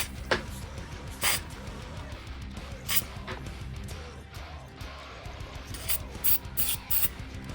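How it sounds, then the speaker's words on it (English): Several short, sharp hissing bursts of contact cleaner spray into a noisy volume knob potentiometer, irregularly spaced and close up over faint rubbing and handling noises. "So you're going to spray right there, give it a couple short bursts."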